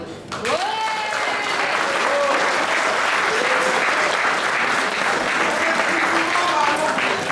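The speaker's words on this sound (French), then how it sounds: "Je pense que nous pouvons vous applaudir." Loud, sustained applause from a large crowd at a Marion Maréchal-Le Pen political speech in Eragny, France, in 2014, steady clapping filling the room, with a few faint voices and brief whistles rising above it.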